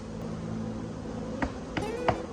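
Honey bees hum steadily around an open hive during a honey harvest in sunny weather, a continuous low drone with a few brief knocks and clicks near the end, no voices.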